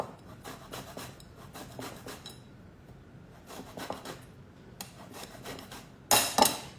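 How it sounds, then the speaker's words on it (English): A microplane grater zests a lemon with quick, close rasping strokes in an uneven rhythm, soft scraping over a quiet room, ending with a louder clatter, no talking. "so here we go, lemon zest."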